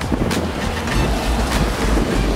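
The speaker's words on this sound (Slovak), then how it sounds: "fúka vietor" Strong wind blows outdoors in Prague, a loud, steady roar buffeting the microphone with gusty rumble throughout and no voices.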